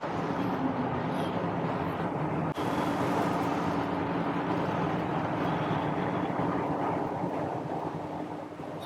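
A 1956 Chevy 3100 pickup truck drives at highway speed, its engine a steady, even drone under heavy road and wind noise inside the cab, with no talking.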